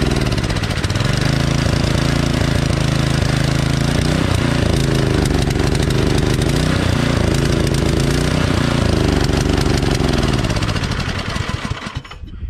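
A Troy-Bilt Storm 2620 dual-stage snowblower with a 208cc Powermore engine and a dirty, rusty carburetor runs off choke: a loud, close, continuous roar with slight surging, cutting out at the very end.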